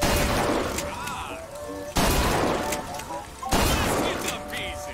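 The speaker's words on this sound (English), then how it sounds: "take aim and blast those evil vox out of the sky" Gunfire in Bioshock Infinite is aimed at Vox airships: three loud, heavy bursts, each starting abruptly and fading, spaced about two seconds apart amid ringing game effects.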